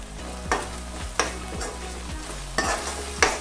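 Finely chopped medium tomatoes with turmeric and garam masala fry in a pan for pepper chicken masala, a steady sizzle broken by about five sharp scrapes and knocks of a stirring spoon, close and alone with no voices.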